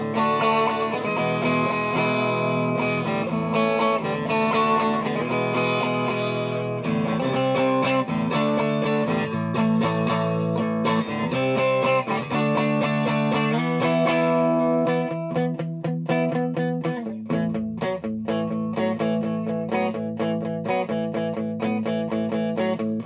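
A Fazley DC Junior electric guitar plays through an amp with every control turned up to 10. Loud, continuous strummed chords ring and sustain for the whole stretch, with no talking.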